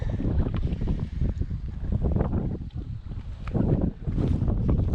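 Strong gusty wind on a lake buffets the microphone in a steady loud rumble, rising and falling in waves, with faint water and boat movement beneath.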